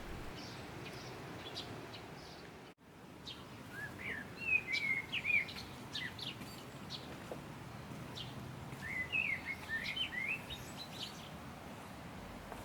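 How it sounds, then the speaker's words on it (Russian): A real bird living in a garden sings in short bright phrases, two main bursts of chirping several seconds apart, fairly faint and set against a soft outdoor background hush. "пение птиц на фоне — это не заимствованная звукозапись, а это настоящая птичка, которая живет у нас на фазенде"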